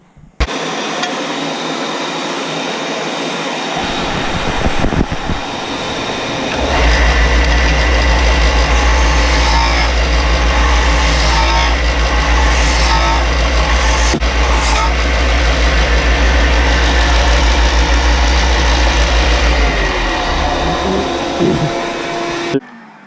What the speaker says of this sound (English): And we'll use a bench grinder to do that.